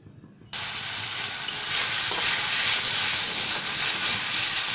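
Chopped onion hits hot white oil in a wok, erupting into a loud, steady sizzle and hiss that continues without pause.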